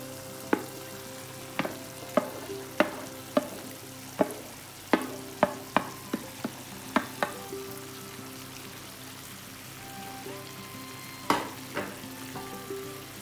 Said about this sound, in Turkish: şimdi bu aşamada önceden hazırlamış olduğum biber karışımımızı ilave ediyorum